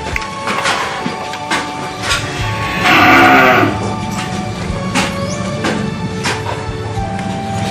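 Cattle in a farm shed: a loud, close moo rises for about a second amid steady barn ambience, with scattered knocks and clatter around it.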